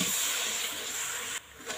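Tamarind pulp sizzling in a hot pan gives a loud, steady, close hiss that suddenly drops to a softer sizzle near the end, with no voices.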